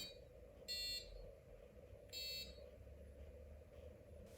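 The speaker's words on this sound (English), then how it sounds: "Every finger combination lights up the LEDs and triggers the buzzer." Two short electronic beeps from an Arduino buzzer, each about a quarter second, sounding over a steady low hum with a gap between them.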